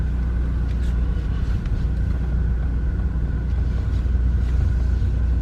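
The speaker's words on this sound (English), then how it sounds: "Put her in first gear, let the parking brake off, and let's creep on out of the driveway." A car engine idles and rumbles steadily as the vehicle creeps out of a driveway in first gear on a breezy morning, a low continuous drone close by with no talk.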